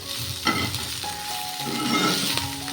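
Okra and beans hit a hot pan and fry with a steady, close sizzle, with stirring scrapes and a few clinks and no voices.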